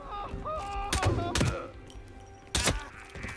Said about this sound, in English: I shot him in the spine!